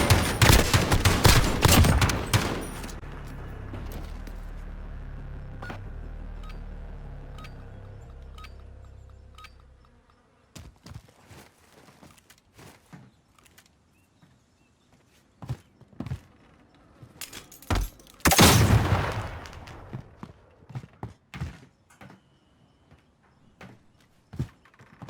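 Rapid video-game gunfire from a 1v1 gunfight tournament match, with a loud burst of automatic fire and shots at the start, then scattered single gunshots, and another sharp burst near the end.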